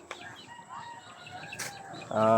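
Backyard-bred chickens cluck and call nearby in quick bursts, ending with a louder crowing-like squawk, against a quiet outdoor background.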